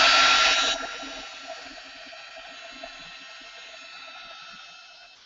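An electric dryer blows a steady airy whoosh over a painted art journal background layer, loud at first then dropping to a quieter continuous hum.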